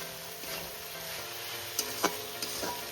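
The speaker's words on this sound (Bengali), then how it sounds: "এবার আমি পোস্তটা একটু ভালো করে কষিয়ে নেব।" Poppy seed paste stir-fried in a pan, a low continuous sizzle broken by a few sharp spatula scrapes and taps against the pan, quiet and close with no voices.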